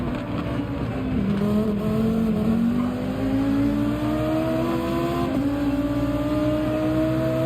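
A Volkswagen Beetle race car in Gran Turismo 7 accelerates hard at Deep Forest Raceway, its engine note climbing steadily and loudly through the revs with a brief gear change midway, then continuing to rise.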